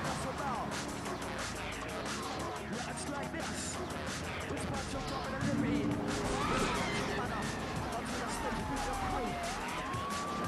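Wailing police siren in Grand Theft Auto III Definitive Edition, rising and falling continuously under a busy mix of car engine noise and crashes, with someone talking over it.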